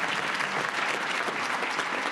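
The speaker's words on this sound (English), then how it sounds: "So a round of applause for Sandra, real quick." A banquet audience at a chamber of commerce annual meeting and awards dinner claps in a dense, sustained burst of applause, fairly even throughout and moderately loud.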